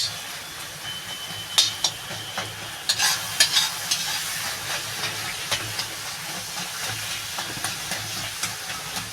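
Jujube sour chutney gets stirred in a pan, with a steady steamy sizzle beneath repeated sharp scrapes and clicks of a spoon, loudest in a cluster early on, then lighter stirring; no speech.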